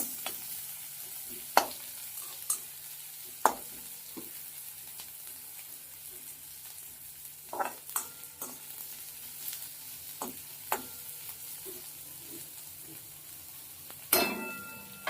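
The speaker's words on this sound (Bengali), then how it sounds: "ঝিরিঝিরি করে কেটে রাখা পেঁয়াজটা দিয়ে দেব কড়াতে পেঁয়াজটা কমিয়ে পেঁয়াজটাকে আগে লাল লাল করে ভেজে নেবো" Thinly sliced onions fry slowly in a kadai until reddish, for a spicy pointed gourd dish. A soft, steady sizzle runs throughout, with scattered sharp clicks and taps of a spatula against the pan, and no talking.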